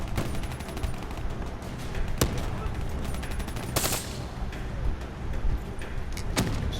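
Gunfire from the video game Call of Duty Black Ops III, rapid automatic bursts with sharp single shots and mechanical clatter amid dense game noise.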